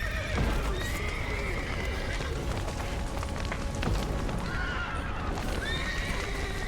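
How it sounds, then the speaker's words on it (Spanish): Horses in The Witcher 3 video game neighing and whinnying as their hooves clatter out of the stables, repeated whinnies rising over continuous loud clip-clop and rumbling game ambience. "Vale, sale los caballos."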